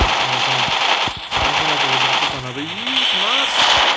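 Rapid automatic gunfire bursts in a shooting video game, loud and close, rattling in short strings with brief pauses while someone talks excitedly over the shots.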